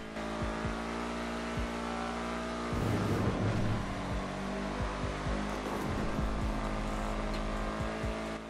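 A slightly broken car running on aviation fuel in GTA RP drives with a steady engine drone, punctuated by brief tire squeals and a louder revving surge midway.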